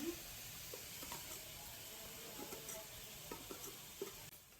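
Tomatoes softening in a pan for South Indian tomato chutney, a faint steady sizzle with occasional soft stirring taps, heard alone at low level.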